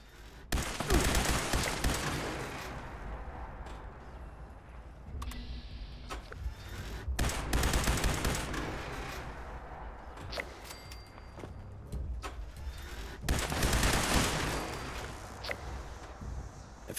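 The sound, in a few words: gunfire destroying robots in the video game Fallout 76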